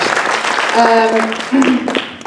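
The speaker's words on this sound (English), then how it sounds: "Can y'all give a round of applause to Sheriff Craig and Dr. Wilson?" An audience claps for a couple of seconds, a short burst of applause with voices and some musical tones mixed in.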